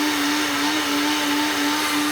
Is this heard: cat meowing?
no